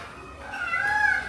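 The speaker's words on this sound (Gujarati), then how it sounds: "જો ગાડીની બિલાડી છે જો." A cat meows once in a rising, drawn-out cry, fairly close and over low background noise.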